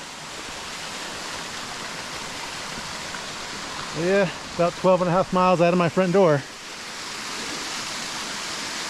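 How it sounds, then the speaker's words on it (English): Steady broadband rush of a formerly seasonal, now year-round unnamed waterfall runs throughout, with a voice talking briefly over it midway. "There's the waterfall that used to be seasonal. Now it's year-round."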